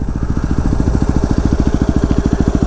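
A Yamaha WR250R motorcycle being ridden, its single-cylinder engine chugging in a steady, fast, even pulse, loud and close throughout with no talk.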